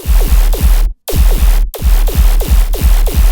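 A dubstep sub-bass layer pulses in heavy, loud repeated hits, each dropping sharply in pitch, in a steady rhythmic pattern broken by two brief silent gaps.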